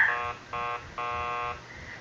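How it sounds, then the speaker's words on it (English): Door buzzer rung in the video game Killer Frequency: three electronic buzzes, the first short, the second brief, the third longer, with steady tonal hum between and no voices. "keep calm and ring the buzzer"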